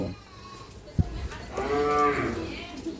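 A Sahiwal calf on a rural livestock farm gives one drawn-out moo after a dull thump, close and fairly loud against a quiet background.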